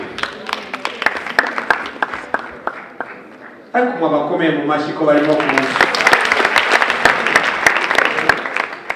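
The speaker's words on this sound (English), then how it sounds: "A hand of applause as they are coming." Sustained applause from a crowd at a university awards ceremony, dense clapping throughout, with someone speaking over it through a loudspeaker midway.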